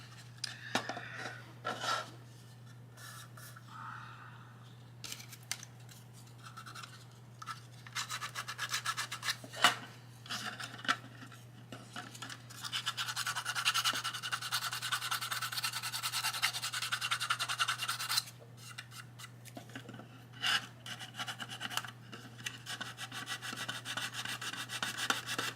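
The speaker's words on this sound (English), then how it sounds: "this stuff sands pretty easily too" A diorama piece is sanded by hand during a late-night crafting session, giving continuous close scratchy rubbing strokes that swell and ease over a steady low electrical hum, with no talking.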